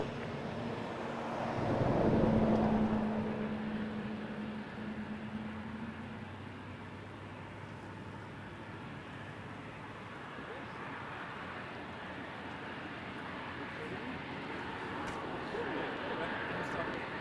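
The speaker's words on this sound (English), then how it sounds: "That was Emirates 242 making an amazing departure to Dubai." An Emirates airliner departing Toronto Pearson for Dubai, a distant jet roar that swells briefly then fades into a long, wind-buffeted rumble, with no voices.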